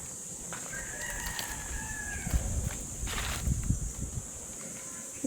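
Roosters at a game fowl farm crow faintly in the middle distance, a couple of drawn-out calls over a busy background of shuffling, rustling and footstep-like noise.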